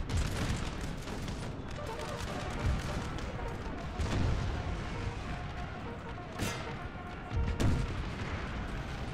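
Artillery fire in Napoleon: Total War, with dull booms and a crackling fusillade rolling in bursts over a thick battle din, loud and continuous with faint voices mixed in.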